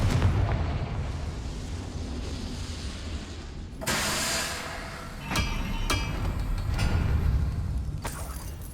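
Confringo spell explosions in the Hogwarts Legacy video game, several sharp blasts and booms over a dense, rumbling game soundscape of steady loud noise.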